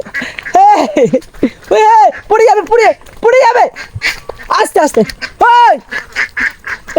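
Several ducks quack loudly and repeatedly nearby, honking calls in quick bursts, while a person speaks softly between them.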